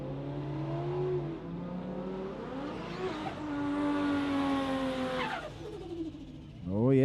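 A Mustang drag racing car at Warwick Dragway accelerating hard, its engine pitch climbing through gear changes, with a second burst of revving at the end and a voice talking over it.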